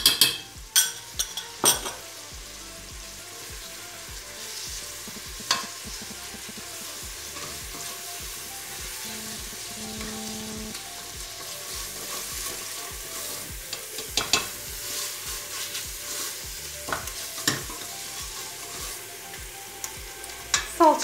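Tomato paste sautéing in a pot for a green bean and meat stew, a steady quiet sizzle under repeated sharp scrapes and clinks of a spoon against the pot, with no talking.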